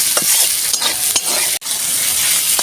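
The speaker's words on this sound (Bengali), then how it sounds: "ভালো করে আমি ভাজবো।" Hilsa fish head bones frying in a pan for a bitter gourd recipe, a steady loud sizzle of hot oil with occasional scraping stirs and one sharp clack, no talking.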